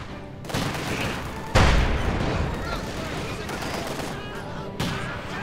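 Gunfire crackles through a Company of Heroes 2 battle, a dense rattle of machine guns and rifles with sharp louder reports now and then, heard under a voice.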